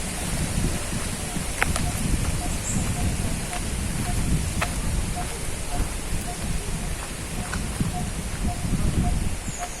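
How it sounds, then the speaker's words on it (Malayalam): Wind at Dhoni Waterfalls in Palakkad, Kerala, India, makes a steady, dense rushing roar, with faint, evenly repeated chirps ticking in the background. "നല്ല കാറ്റുണ്ട്."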